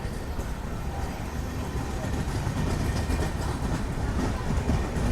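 Janmabhoomi Express passenger train running, a steady, dense rumble of wheels and carriages with rhythmic clatter, close and continuous throughout.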